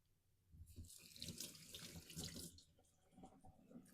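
Snow peas rinsed under a running kitchen tap, water splashing and hissing steadily into the sink for a few seconds, close and alone with no voices.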